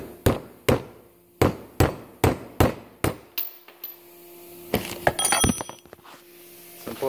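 A Gorilla brand lug nut is struck with a hammer: eight sharp metallic taps at a steady rhythm, close and loud, followed by scraping and clattering metal.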